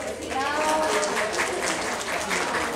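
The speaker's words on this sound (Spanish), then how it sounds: "Denle un aplauso." An audience applauds steadily and fairly loudly for a biology graduate being interviewed, a dense wash of clapping throughout with a few voices faintly mixed in.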